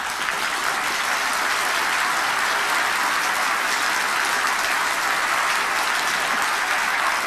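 An audience claps steadily to imitate thunder, producing a dense, unbroken roar of many hands that stays loud and even from start to finish.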